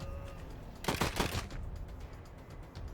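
A short burst of rapid gunfire in the video game Wasteland 3, a dense rattling volley of about half a second over quiet background, with no talking.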